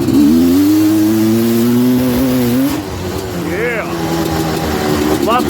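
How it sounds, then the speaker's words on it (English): A Suzuki LT250R ATV engine revs moderately while being ridden, with a steady buzzing tone that holds and then drops as the throttle eases, followed by lighter revving under wind noise and occasional faint chirps. "I'm not even revving it out, as you can hear"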